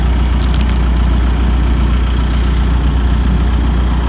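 A truck engine idling nearby outdoors, a loud continuous low rumble that stays steady throughout without any voices.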